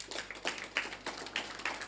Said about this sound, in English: So let us give that one a round of applause.